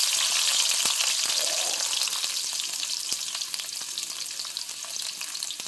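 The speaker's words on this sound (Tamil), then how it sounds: "பூண்டு லேசாக வதங்கட்டும்" Crushed large garlic cloves frying with cumin in hot oil, a dense continuous sizzle up close with small crackles and stirring, for a shark fish curry.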